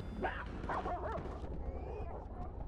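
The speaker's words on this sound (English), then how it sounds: "Well, it is a dog." A video game dog barks, yips and whimpers in short close bursts, loudest early and fading into softer whines.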